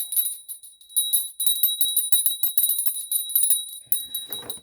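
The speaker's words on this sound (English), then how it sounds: "I'm just going to ring a bell here" A small bell rung to clear energy in a room, bright high ringing tones repeating in quick rhythmic bursts for several seconds, fairly loud and alone, ending with a low rustle.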